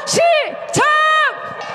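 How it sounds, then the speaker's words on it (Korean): Protesters at a rally against Yoon Suk-yeol let out loud shouts, two strong rising yells close by and sustained, with a fainter trailing voice afterward. "함성 크게 한번 질러보겠습니다!"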